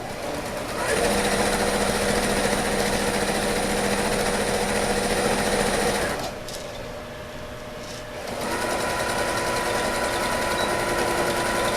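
Sewing machine stitching a seam in fabric for a kitchen organizer, a loud steady motor whir with rapid needle chatter, pausing briefly near the end before resuming, recorded close.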